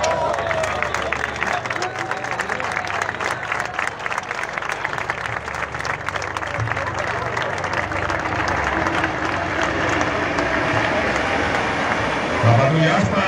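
Dense, sustained clapping from a large outdoor crowd at an air show at Tablada, Seville, loud and continuous throughout, with voices mixed into the ovation.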